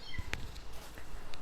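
A faint, soft kitten cry or two comes through, brief and quiet against a low background hiss.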